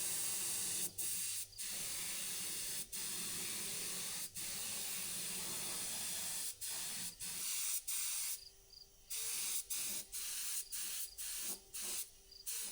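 Primer sprayed from a paint gun onto a steel lowboy trailer deck insert, a loud steady hiss running in long passes and broken by repeated short pauses, with a faint hum underneath.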